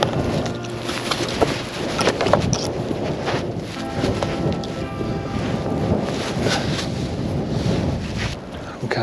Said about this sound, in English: Oh, it is cold with that wind.